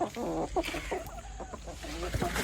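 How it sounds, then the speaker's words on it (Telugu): A Kadaknath hen clucking on a farm, several short repeated clucks close by over a steady background, with someone talking at times. "ఒక పెట్ట."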